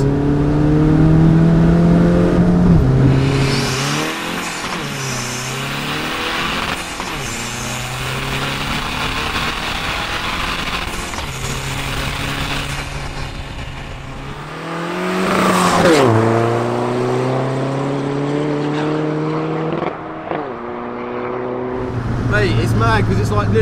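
A Skoda Fabia vRS diesel with a big turbo accelerates hard through several gears, its engine note rising and dropping at each shift, with turbo whoosh and occupants talking over it inside the car.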